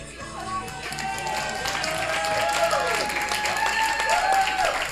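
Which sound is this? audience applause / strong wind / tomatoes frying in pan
audience applause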